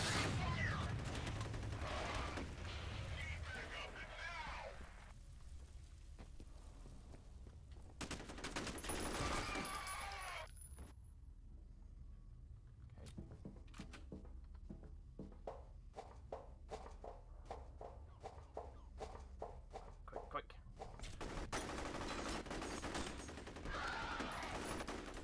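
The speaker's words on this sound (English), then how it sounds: "Stop shooting." Gunfire in the shooter game F.E.A.R. comes in sharp, loud bursts, first scattered shots and then a long run of rapid automatic fire, with mechanical clatter and quieter gaps between volleys.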